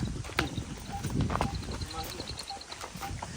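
A mare being readied for riding shifts on her hooves with a few soft, scattered clip-clops under quiet background noise, while people talk nearby.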